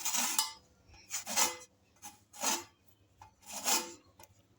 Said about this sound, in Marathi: किसणीवरती वरचे साल काढून घेऊ